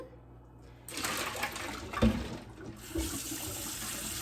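Running tap water splashes over homemade butter being rinsed in a kitchen sink, a steady hissing stream with brief bursts and shifts as the butter is moved under the flow.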